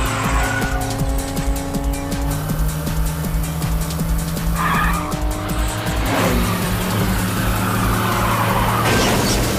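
A race car skids with squealing tires during a crash scene in an action movie, with engine roar and sliding screeches over several seconds, loud and close, with no speech.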